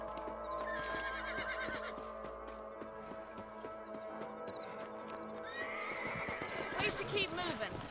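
Horses in the video game Red Dead Redemption neigh and whinny loudly in repeated bursts over a steady clip-clop of hooves walking, the calls rising again toward the end.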